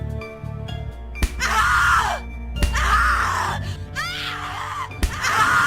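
A woman screams and wails in the horror adventure game The Cat Lady, several long anguished cries rising and breaking over a low droning music bed, loud and close.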